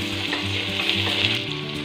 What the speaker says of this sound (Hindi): लहसुन ब्राउन हो चुके हैं, प्याज ऐड करेंगे और कुछ सेकंड्स के लिए भून लेंगे।